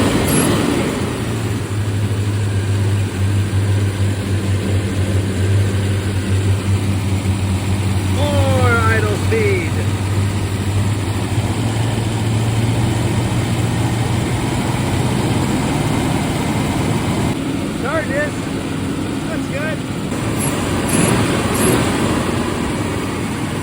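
A 1961 Studebaker Hawk engine runs with its supercharger belts removed, settling into a steady, low idle throughout, close and continuous, with faint brief chirps over it.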